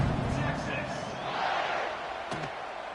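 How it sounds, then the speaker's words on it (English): A stadium crowd in a college football video game buzzes with a steady, dense roar of cheering and chatter, while a commentator talks over it. "this crowd is buzzing after that last score"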